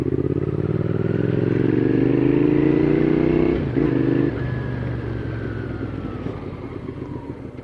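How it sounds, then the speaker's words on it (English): A motorcycle ridden on a cold January day: a steady, loud engine drone with rising and falling revs and a brief dip in the middle, up close for the whole stretch with wind rush and no talk. "It feels so good being back on the bike."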